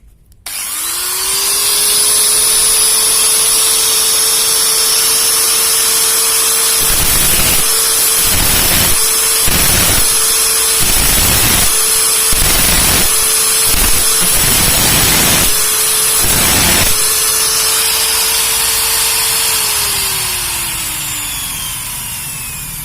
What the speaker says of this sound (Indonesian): Terus nanti di sini saya bor, saya tambah lagi lubang satu